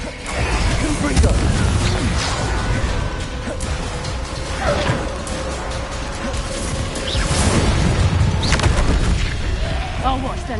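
Confringo fire spell blasts during combat in Hogwarts Legacy, loud rumbling booms and crashes layered with continuous battle noise and game voices talking over the action.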